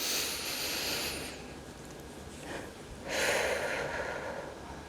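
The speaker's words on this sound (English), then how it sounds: "let's breathe in really deep" A deep breath drawn in slowly and then released, close to the microphone: a long airy inhale, a short pause, then a stronger hissing exhale, with no talking.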